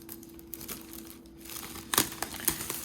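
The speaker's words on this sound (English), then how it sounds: "you take this plastic right off" Plastic wrap being pulled off the packaging box of a 2020 M1 13-inch MacBook Pro, heard as soft crinkling that swells into a few louder crackles near the end, close and on its own.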